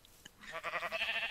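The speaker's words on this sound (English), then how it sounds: "Oh, poor sheep." Sheep bleating in Minecraft, a wavering, drawn-out bleat that swells after a brief click and holds steady to the end, fairly close and clear with no talk over it.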